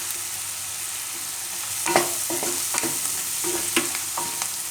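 Red chili powder and coriander sizzle in hot oil over a low flame while a spoon stirs and scrapes the pan, for a Gujarati roti dish; a steady close hiss with several sharp clinks of the utensil and no talk.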